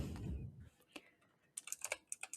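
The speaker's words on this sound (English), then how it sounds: "I don't know if like how much you can hear my keyboard now." Typing on a computer keyboard, a quick run of light clicks and taps close to the mic, following a brief stretch of muffled low rumble.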